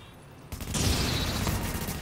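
A flashbang goes off in The Division video game, a loud sudden blast that sets in after a quiet start and is followed by a sustained bright ringing wash lasting to the end.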